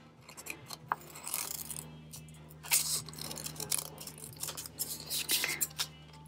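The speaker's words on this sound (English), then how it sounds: "Now we're going to cut it." Scissors cut through paper for a Baby Yoda bookmark, making soft, irregular snips and crinkly rustles up close at a low level, with no speech.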